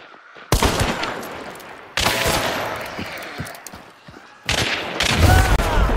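Gunfire in Hunt: Showdown, loud broadband shot bursts at about half a second, two seconds and four and a half seconds, each followed by ringing tails and scattered echoing cracks, with no talk.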